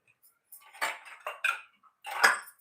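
A steel mixer jar and metal kitchen utensils clink and clatter while being washed, four short bright bursts of clanking close by in a quiet kitchen.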